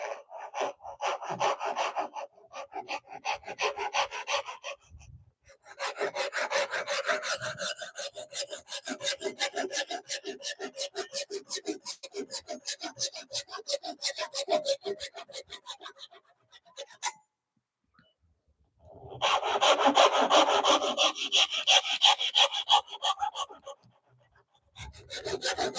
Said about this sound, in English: I'm going to use a handsaw here.